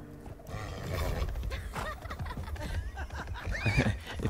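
Horse sounds from the video game Minecraft Legends: snorting, whinnying and rough vocal noises mixed with hoof clatter and game ambience, dense and continuous, a brief high whinny near the end.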